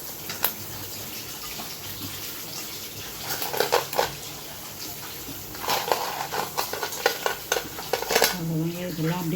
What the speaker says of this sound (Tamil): இதெல்லாம் அப்படியே சேர்த்துட்டு ரொம்ப கலர வேண்டாம், லைட்டாக அப்படி கலந்து விட்டுட்டு ஒரு 10 நிமிஷம் மூடி வைக்கலாம்